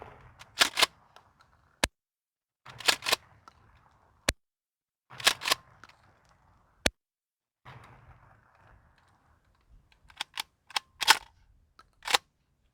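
A gun firing shotgun shells outdoors, loud sharp reports in irregular bursts, some shots in quick pairs and a few single cracks, with faint handling noise and ringing decay between them.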